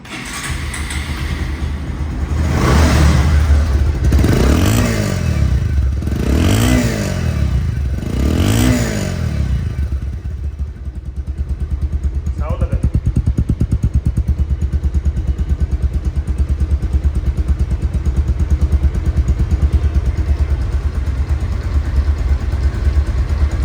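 A 2021 Bajaj Pulsar motorcycle with double disc brakes and ABS revs several times in rhythmic surges, then settles into a steady, loud exhaust idle that runs on.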